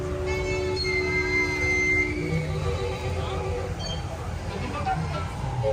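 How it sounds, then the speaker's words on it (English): At Disneyland, the monorail glides past with a high, tonal wheel whine that fades over a few seconds, heard amid crowd chatter and people talking nearby. "There's the monorail."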